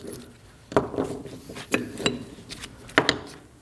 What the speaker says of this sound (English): The first thing we're gonna do is remove the pads.